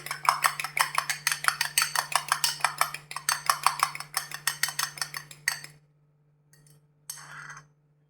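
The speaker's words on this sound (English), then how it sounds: "First we need to beat the egg slightly, not much." A fork beats an egg in a bowl for a prawn marinade, giving a quick steady run of close, bright clinks for about five seconds, then a couple of faint taps.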